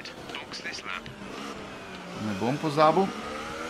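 Formula 1 cars in the F1 2018 video game racing wheel to wheel at the Chinese circuit, engines whining and rising in pitch under a voice talking over them.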